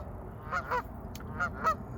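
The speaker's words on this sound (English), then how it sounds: "Some geese out there." Geese honking outdoors at a fishery lake, several calls in two separated pairs, moderately distant over a steady low background rumble.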